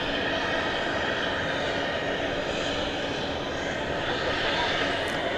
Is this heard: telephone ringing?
no